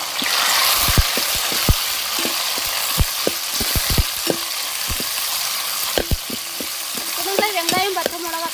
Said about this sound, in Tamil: நம்ம வெட்டி வச்ச தக்காளி எண்ணெயிலே வதக்கி எடுத்துக்கிறோம்.